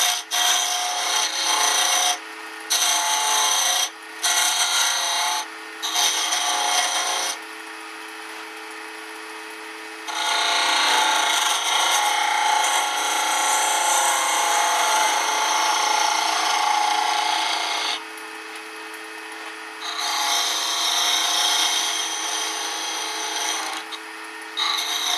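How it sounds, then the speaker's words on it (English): A small flat-top gouge used as a scraper on wood, rasping in repeated bursts with short pauses, then longer continuous scraping strokes, close and fairly loud with no talking. "using my small flat top gouge now, I'll just using it like a scraper right now."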